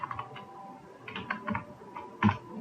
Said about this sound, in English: Now we are going to type weekday.